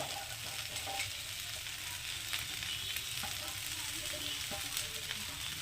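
Pui (Malabar spinach) seeds, freshly picked, sizzling and crackling in a hot frying pan, a steady dense hiss with scattered pops and light stirring scrapes throughout, close and continuous with no talking.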